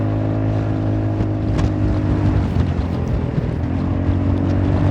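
Engine of a Honda Forza 350 scooter fitted with 13-gram roller weights, running steadily while riding, a continuous loud drone with layered harmonics and road rush, alone without talk.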